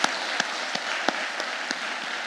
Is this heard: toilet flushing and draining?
no